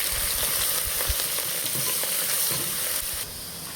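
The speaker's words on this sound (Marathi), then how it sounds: "आता आपण ह्याच्यामध्ये लसण अद्रकची पेस्ट टाकून देऊ." Ginger garlic paste with coriander leaves fries alongside browned onions for a homestyle biryani. A dense, loud, continuous sizzle fills the pan, broken by a few low stirring thumps and easing slightly toward the end.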